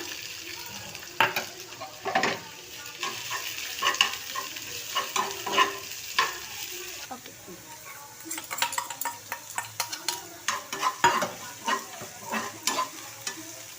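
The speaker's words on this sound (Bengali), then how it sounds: "ফ্রাইং প্যানে কিছুটা তেল দিয়ে পেঁয়াজ কুচি আদা কুচি লঙ্কা কুচি সব দিয়ে দিলাম" Chopped onion, ginger and chilli fry in oil in a frying pan, a steady close sizzle broken by repeated stirring scrapes and light metal clinks of a utensil against the pan.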